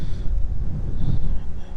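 Strong gusty wind buffeting the microphone outdoors near a cliff in a park in fall, a loud, continuous low rumble with no distinct events.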